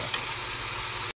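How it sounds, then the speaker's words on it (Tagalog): Pork steak sautéing in a hot pan, a dense continuous sizzle with no talking that cuts off abruptly after about a second. "So gisa na muna natin yan, yung pork stick mga kapaps."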